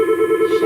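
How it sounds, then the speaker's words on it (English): A phone rings at a dog grooming session with a steady warbling electronic tone that pulses quickly and stays clear and fairly loud for under a second. "That's the phone."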